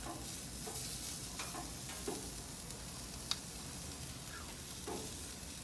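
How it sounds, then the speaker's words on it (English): Sausages sizzling on a Hestan gas grill, a soft steady crackling hiss with occasional faint pops and a single sharp tick, quiet and even throughout with no talking. "cooking the sausage, no flare-ups, no fuss"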